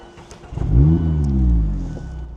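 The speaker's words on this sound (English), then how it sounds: "let me let you guys hear this Goodwin Roadstersport exhaust" A Mazda Miata with a Goodwin Roadstersport aftermarket exhaust, baffle still fitted, revs up loudly with a deep, throaty exhaust note, holds a strong rumble, then eases off.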